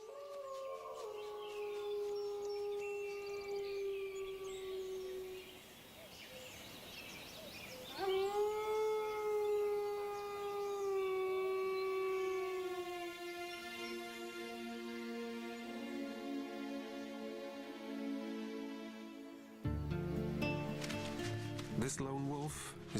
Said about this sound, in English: This lone wolf is a young male.